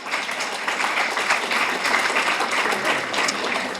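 Loud, sustained applause from an audience, dense and continuous throughout.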